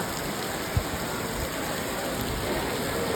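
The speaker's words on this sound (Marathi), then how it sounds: "कसला जरा पाऊस पडतो" Steady hiss of rain falling in Malshej Ghat, a constant wash of sound with one brief tap near the start and no talking.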